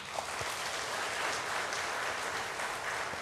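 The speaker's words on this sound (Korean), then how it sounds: "우리 선교팀에게 박수 한번 보내주겠습니까?" Church congregation applauding a returning mission team: dense, steady clapping filling the room for a few seconds, close and even throughout.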